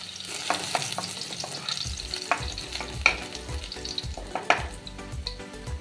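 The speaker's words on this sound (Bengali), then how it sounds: "এই তেলে দিয়ে দেব 5-6 কোয়া রসুন থেতো করা।" Five or six crushed garlic cloves hit hot mustard oil, giving a close, lively sizzle with frequent sharp stirring scrapes and clinks against the pan, and no talk.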